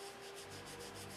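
Wet sanding of a painted finish with 600-grit paper as a leveling pass: a faint, steady rubbing and scrubbing sound, continuous and close.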